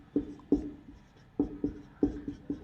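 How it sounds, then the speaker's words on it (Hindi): Chalk or marker taps and strokes on a classroom board as a teacher writes, about eight distinct sharp knocks in uneven clusters, fairly close, with no speech. "मैं लिख करके आप लोग को बता देता हूं"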